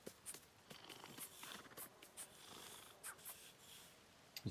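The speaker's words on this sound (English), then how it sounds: "He's purring." A Neasel creature in the Hogwarts Legacy video game purrs softly while being brushed, a faint steady rumble broken by light scattered clicks and rustles.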